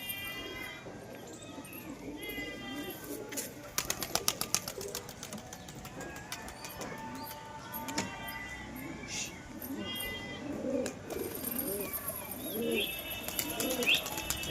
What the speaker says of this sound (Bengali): ছেড়ে দিলাম কবুতরটা দেখা যাক কোথাও যায়নি